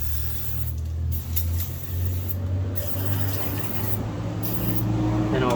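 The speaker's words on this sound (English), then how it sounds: "I've never actually sprayed it in before while it's running" A running lawnmower engine drones steadily and close while carburetor cleaner is sprayed into its carburetor in a few short hissing bursts.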